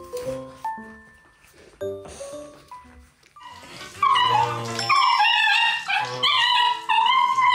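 Young puppies reacting to a zero-gravity humidifier whimper and let out high, wavering howls, sparse at first, then a loud, sustained chorus of whines close by, with a voice briefly heard early on.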